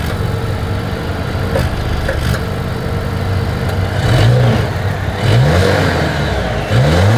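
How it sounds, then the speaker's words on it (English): A 2023 Volvo XC40's exhaust idles with a low rumble, then revs up sharply three times, each throaty rise falling back to idle, close and loud. "As always, here is that exhaust clip."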